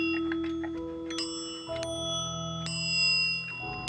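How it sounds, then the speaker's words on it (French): An antique pendulum clock with five bells chimes a sequence of clear, ringing bell strikes that overlap and decay, sounding close and distinct over a soft background, with no talk. "Et c'est une pendule qui a 5 cloches."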